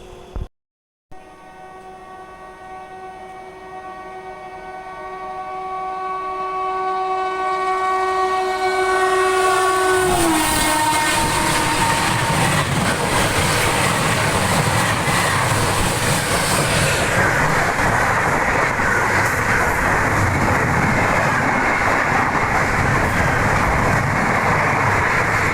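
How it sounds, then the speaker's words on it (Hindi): The Bhubaneswar Tejas Rajdhani Express approaches with a long, loud horn blast that ends abruptly, then roars past up close in a steady, sustained rush of wheels and carriages with no talk. "ये चीज़ अच्छा हुआ कि एक प्रीमियम ट्रेन देखने को मिली है, भुवनेश्वर तेजस राजधानी।"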